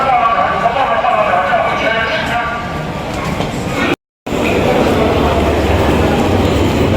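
A green train pulls out from Xinxiang toward Zhengzhou in China, giving a dense rumbling, rattling roar close by. A short dropout breaks it partway through, and then the clattering continues as steadily as before.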